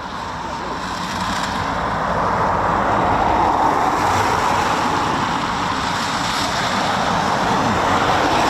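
Eurofighter Typhoon FGR4 jet at RAF Coningsby on quick reaction alert, a loud continuous engine roar that swells gradually and holds steady throughout, no speech.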